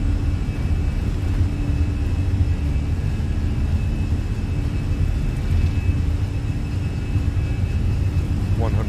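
Airliner jet engines spool at takeoff power on a runway in Microsoft Flight Simulator, an easyJet flight at Innsbruck, making a steady, loud broadband roar with a low rumble throughout, while a voice talks over it.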